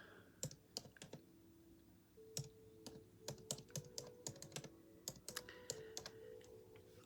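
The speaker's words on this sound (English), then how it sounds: "Typing with two fingers, my computer's underneath here." Keys clack on a computer keyboard typed with two fingers, a quiet, uneven string of separate taps with short pauses and no talk.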